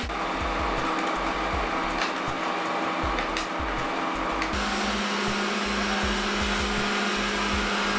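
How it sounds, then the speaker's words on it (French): A Roborock S5 robot vacuum cleaner runs loudly and steadily for the whole stretch, a constant whirring motor drone with a broad airy hiss and low rumble. "le Roborock fait beaucoup plus de bruit"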